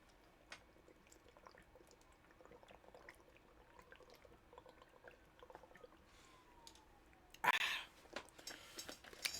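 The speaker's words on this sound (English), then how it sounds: "Listen to me gulp." Faint swallowing and liquid sounds as someone chugs coconut water from a bottle, with small clicks throughout and a louder sloshing burst near the end, all close and quiet, without talk.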